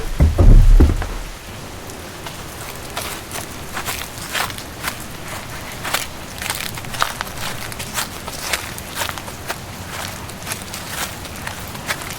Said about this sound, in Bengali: অনেক ঝড় বৃষ্টি হচ্ছে